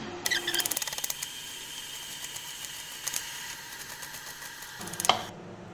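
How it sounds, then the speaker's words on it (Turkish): A knife chops a medium onion on a board for soup, quick close rhythmic taps at the start, scattered cuts through the middle and a firmer knock near the end. "Bir adet orta boy soğanı yemeklik şekilde doğruyorum."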